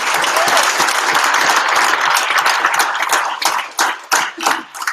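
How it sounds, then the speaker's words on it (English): A hackathon audience applauds its sponsor CUA, loud dense clapping that fills the first three seconds and then thins into separate, uneven claps as it dies down. "So big round of applause for CUA"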